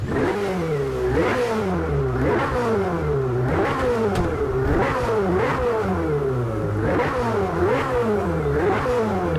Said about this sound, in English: Beautiful sounding car, I know. Love the backfiring as well.